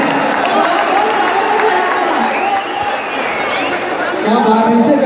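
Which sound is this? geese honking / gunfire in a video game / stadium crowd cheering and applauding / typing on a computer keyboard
stadium crowd cheering and applauding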